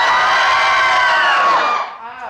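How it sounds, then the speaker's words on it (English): Game show players scream loudly together on cue in a studio, one sustained high-pitched collective shriek that fades out after about a second and a half. "I just want you to scream"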